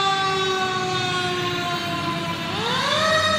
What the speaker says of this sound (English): They put the sirens on.